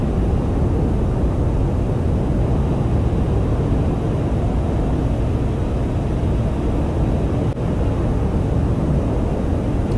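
A fast jet plane engine from the DCS World flight game roars at a steady, loud level, giving a broad rushing noise throughout with no voices.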